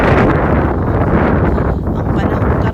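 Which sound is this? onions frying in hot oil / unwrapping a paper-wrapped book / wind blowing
wind blowing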